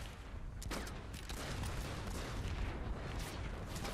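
Distant, muffled gunfire from the online shooter Planetside 2, a dense crackle of overlapping shots and bursts forming a continuous battle backdrop at low level.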